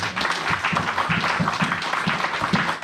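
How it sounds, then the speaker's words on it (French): A church congregation claps and cheers at a French-language service, with continuous rhythmic applause and some voices mixed in. "Acclamons le Seigneur."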